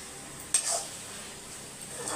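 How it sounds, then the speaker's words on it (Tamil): Tomatoes sauté in a pan with a soft, even sizzle, broken early by a single clink of a spoon against the metal. "இப்போ தக்காளி வதங்கட்டும்"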